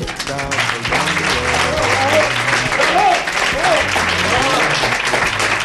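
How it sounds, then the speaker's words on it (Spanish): A live audience at a radio station's programming presentation applauds to welcome guest Bernabé Tierno, a sustained clapping under music and voices that carry on throughout. "con un fuerte aplauso para él, Bernabé Tierno"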